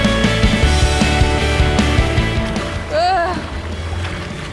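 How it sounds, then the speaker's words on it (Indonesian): A small fishing boat off Bali rides rough morning seas, a low steady engine drone under rushing water and wash against the hull, with a brief voice calling out near the end. "ombaknya juga mulai kencang"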